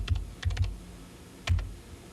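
Typing on a computer keyboard: quick clusters of sharp key clicks, a burst of three or four strokes, a pause, then another short flurry of taps, close and fairly clear with no voices.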